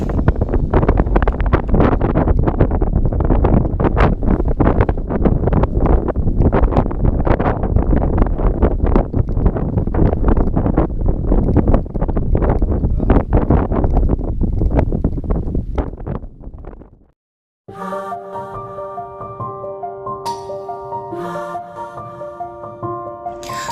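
Strong wind roars and buffets the microphone on the summit of Mount Penanggungan, loud and continuous for about seventeen seconds before cutting abruptly to music.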